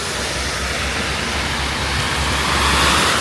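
Heavy tropical rain pours down steadily on a roadside in Thailand, a dense, loud, unbroken hiss that fills the whole stretch.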